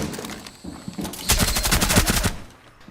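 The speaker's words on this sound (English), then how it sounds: "the LMG is good for just rapid fire" Rapid bursts from a light machine gun in Rainbow Six Siege, a fast stuttering string of loud shots building to a dense sustained volley before trailing off, with no talk over it.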